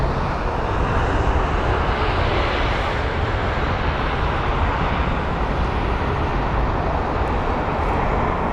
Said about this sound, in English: the BA Better World livery for runway 27 right